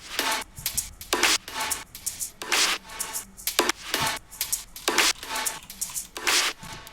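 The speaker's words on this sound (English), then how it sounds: "I took this little percussion loop out of a sample pack I have and kind of cut it up so that it was doing a slightly polyrhythmic thing" A cut-up polyrhythmic percussion loop from a sample pack, with breathy, brushy noise hits and snare-like bursts in an uneven, off-grid pattern, fairly quiet and dry with no voices.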